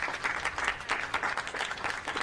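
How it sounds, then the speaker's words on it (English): At a San Francisco community meeting on police shootings, an audience claps steadily, a dense, moderately quiet patter of many hands over a couple of seconds with no voices on top. "Let's give a big round of applause to Sister Felicia Jones"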